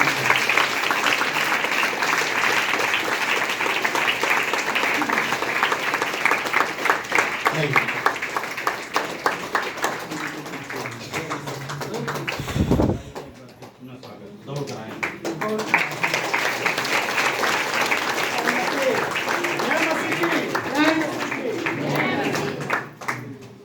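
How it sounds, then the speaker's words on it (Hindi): Audience at a formal meeting applauding to welcome a speaker, a long stretch of dense clapping that dips briefly partway through and then resumes, with talk mixed in at points. "जोरदार ताली बजा के उनका स्वागत"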